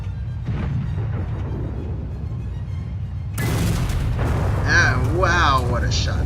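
A tank cannon fires in a video game, the T-34-2, with a sudden loud boom over steady engine rumble, followed by a rolling echoing tail and a voice talking over it.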